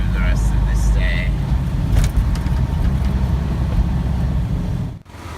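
A car cruises along Interstate 44 in Missouri, along historic Route 66, giving a steady loud low road and engine rumble with wind noise throughout, easing briefly near the end.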